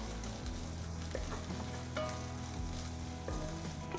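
Long-cut onion, capsicum, carrot and cabbage are tossed over high heat, making a dense, close sizzle with repeated scraping and rattling stirs against the pan.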